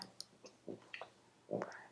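Mouse clicks while working in Photoshop: a handful of short, sharp clicks spaced irregularly, near and fairly quiet, with a slightly louder double click at the end and no talking over them.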